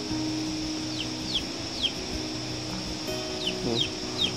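Chickens cluck faintly in the background, giving short, high calls at irregular intervals over a steady low hum.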